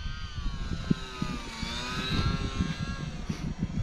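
Small Horizon Hobby UMX RC plane flying low over a runway in a crosswind, a steady high electric-motor whine with shifting pitch as it passes, moderately close, while wind rumbles and buffets underneath.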